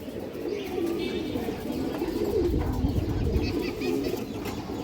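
A flock of old-bloodline pigeons, including hens with black tails, gives continuous low, throaty coos that overlap and swell near the middle, with light chirping above.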